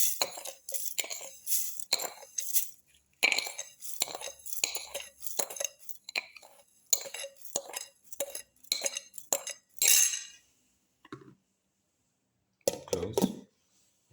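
Sugar and cardamom pods dropped into a grinder jar, a run of short clinks and rattles with gaps of quiet, spaced sharp ticks of hard pods and grains against the jar.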